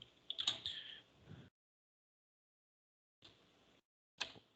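Quick, faint keystrokes on a computer keyboard come in short bursts separated by silence, ending with a single sharper key press like an enter key.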